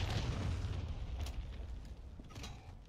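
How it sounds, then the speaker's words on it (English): A cruise missile strike in a video game lands as a steady, rumbling explosion, loud and dense in the low end, sustained across the whole moment with a faint crackling tail and no voices. "Friendly cruise missile approaching target."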